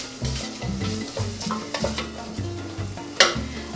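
A spoon stirs half a teaspoon of allspice through the contents of a cooking pot, giving close, steady scraping and gentle sizzling with a sharp clink near the end.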